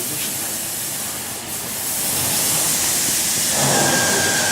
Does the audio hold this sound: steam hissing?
yes